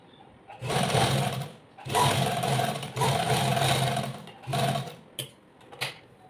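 A sewing machine stitches a pillow cover in several close, loud whirring bursts of about a second each, separated by short pauses, ending with two brief clicks of stitching.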